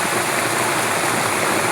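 Heavy rain pours down steadily in a dense, continuous hiss, close and loud throughout with no gaps, like a downpour drenching the surfaces and seats nearby.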